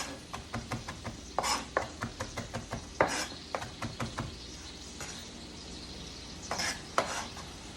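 Grits are stirred in a pot with a utensil, a series of quick rhythmic scraping strokes with a few louder clanks against the pot, pausing and resuming, over a faint background hiss.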